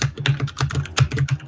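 Quick typing on a computer keyboard during a typing test, a close, loud run of uneven key clicks and clacks with brief pauses, no talking.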